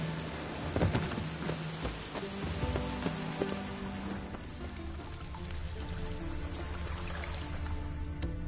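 Steady rain in the video game The Witcher 3: Wild Hunt patters and hisses over surfaces, with occasional louder drips and a low rumble underneath.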